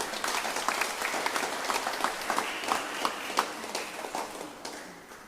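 Applause from a church congregation greets young attendees, steady mid-distance clapping with scattered sharper claps that keeps going for several seconds before slowly easing.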